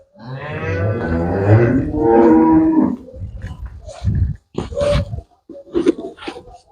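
Loud, close cow moos, two long drawn-out calls followed by shorter grunting lows and snorts.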